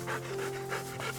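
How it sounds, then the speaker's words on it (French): A dog pants close by in quick, rhythmic breaths, about four or five puffs in a row, audible over a faint steady hum. "désolé si ça fait du bruit, c'est mon chien qui est à côté"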